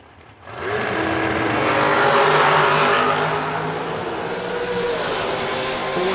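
Superior Liquors American race car making a drag race run, its engine roaring loud and sustained, rising sharply at launch and holding a dense, steady blare to the end with no voices.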